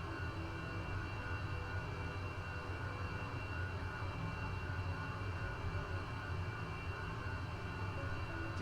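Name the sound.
airplane taking off from Gran Canaria airport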